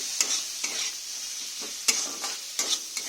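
Okra mash with tomato being sautéed in a pan, a soft sizzle under repeated scraping strokes of a spatula against the pan at an uneven rhythm, close and moderately quiet.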